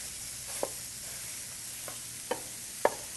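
Ground beef sizzles steadily in a frying pan while a utensil stirs it, with four sharp scraping clicks spaced across the short stretch.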